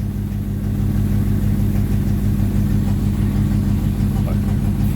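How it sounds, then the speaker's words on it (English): 1954 Ford Popular 103e engine running with the choke on, a steady low idle rumble heard close and continuous throughout. "First turn of the key, choke on with the old trusty close peg, and it fired straight up"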